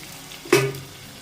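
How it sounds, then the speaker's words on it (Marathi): Crushed garlic dropped into hot oil with reddened cumin for a village-style methi bhaji, giving one sudden close sizzling burst that quickly fades into a quieter hiss. "आता लसूण टाकायचं आपल्याला असं लसूण टाकून घ्यायचं"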